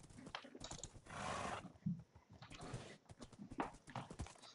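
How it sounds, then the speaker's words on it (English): Horses in a Minecraft Warlords minigame clatter along at a gallop, quick uneven hoof clip-clops mixed with game noise and a brief roar-like burst, fairly quiet overall. "They have horses?"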